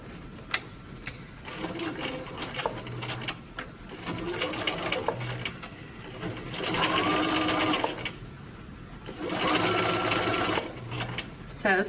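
A sewing machine stitches a seam in faux leather with a steady whirring hum that runs in bursts and pauses for short gaps. A person talks at times under the machine noise.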